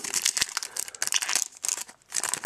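Foil Panini Champions League 2014/15 sticker packets are torn open and handled, producing dense, continuous crinkling and tearing close up, with brief pauses and no talking.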